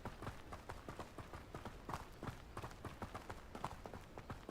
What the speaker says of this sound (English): oh, cool, horse and carriage